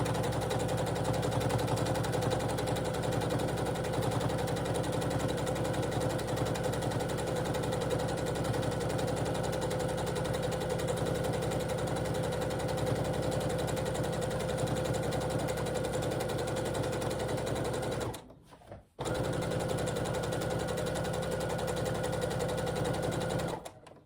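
Sewing machine stitching a bag runs loud and steady for the whole stretch, a continuous mechanical drone with a brief stop near the end before it starts again.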